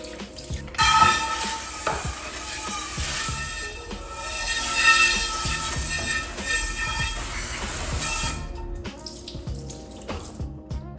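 Dishes are washed by hand under a running tap, with water splashing steadily for about eight seconds along with soft clinks and scrubbing, then the flow stops.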